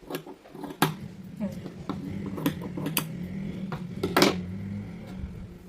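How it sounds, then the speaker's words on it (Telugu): Scissors cut blouse fabric along a marked line, giving several sharp, close snips and clicks spaced irregularly over quiet room noise. "మార్క్ చేసిన రకం కట్ చేస్తున్నాను"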